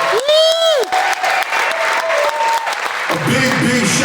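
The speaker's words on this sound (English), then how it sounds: "Give yourselves a big, big round of applause." Concert audience at Victory Assembly of God applauding a band, clapping and crowd noise running throughout while a singing or speaking voice rises over it.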